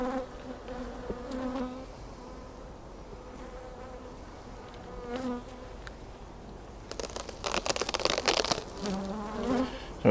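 Honey bees buzz steadily around an open beehive at the end of the honey flow, a dense droning hum with close insects passing near and a louder, busier swarm of activity building toward the end.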